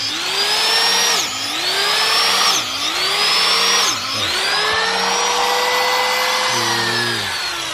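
A power drill boring a row of zigzag holes into a log for mushroom spawn plugs, whining up in pitch as each hole is cut and dropping between holes, loud and close with no talk.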